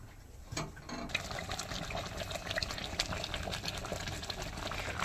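Pitha steaming in molds set on a lit gas stove, with a steady close bubbling and hissing boil that starts softly and then swells into a continuous simmer.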